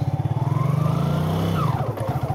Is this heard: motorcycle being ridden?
yes